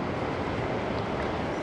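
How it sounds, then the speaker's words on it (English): A waterfall roars as a dense, unbroken broadband rush of falling water, steady and fairly loud throughout, heard without speech. "What a beautiful waterfall this is."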